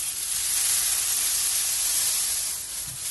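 Flattened rice poha being dry-roasted in a pan over a low flame, a steady, even hiss with no talking, continuous and moderately loud throughout.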